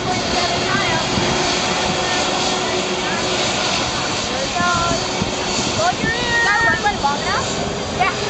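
Airliner landing at St Maarten airport, a loud continuous jet engine roar close by with wind noise, while people talk and call out excitedly over it.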